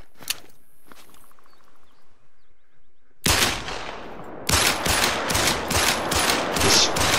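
Series of loud 10mm gunshots in the hunting game theHunter: Call of the Wild, fired on a turkey hunt: a sharp first shot, then a rapid string of cracks after a quiet outdoor stretch with faint insects.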